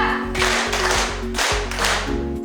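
Students in a classroom clap in unison during an ice-breaking routine, with a series of sharp group clap bursts in a quick repeating rhythm, close and loud over a faint steady tone.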